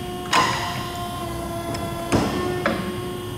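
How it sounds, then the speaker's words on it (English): An Ercolina TB80 NC semi-automatic mandrel tube and pipe bender closes its clamps, giving a few sharp mechanical clunks spaced over a steady machine hum with a tonal whine, no talk. "we can close our clamps on the machine to set clamp pressure and clamp position."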